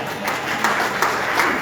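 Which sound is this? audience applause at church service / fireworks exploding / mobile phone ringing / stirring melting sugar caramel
audience applause at church service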